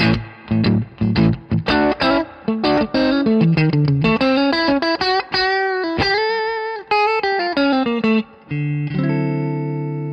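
Clean Fender Stratocaster electric guitar with two pickups selected, playing a quick melodic run of single notes and short chords, bright and slightly hollow in tone, ending on a sustained chord.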